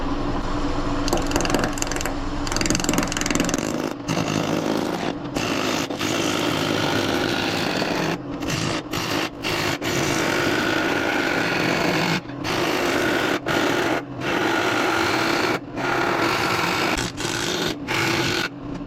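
Wood lathe spinning a narrow wooden spindle at 1200 RPM while a tool cuts it, giving a loud, continuous chattering grind broken by several short pauses, with no talking.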